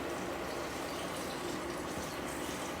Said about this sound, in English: I'm just going to go in with the water